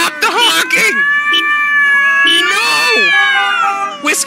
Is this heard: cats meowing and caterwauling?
yes